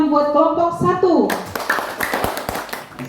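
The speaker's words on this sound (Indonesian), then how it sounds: "berikan tepuk tangan buat kelompok 1" Classroom applause for a presentation group begins after a spoken line and continues as a scattered round of hand claps from a small group, close and fairly loud.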